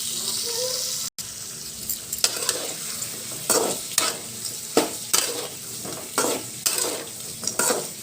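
Ginger-garlic paste frying in a pan while being stirred, with a steady sizzle broken by repeated scraping strokes of the spoon at an even, brisk rhythm and one brief dropout near the start.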